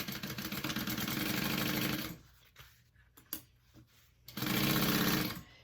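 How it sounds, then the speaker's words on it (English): A sewing machine stitches pieces of a convertible bag together at a 3/8 inch seam allowance, running steadily and loud up close, pausing briefly in the middle before starting up again in a sustained burst. "going to sew these all together at a 3/8 inch seam allowance, making sure not to get my pocket in there"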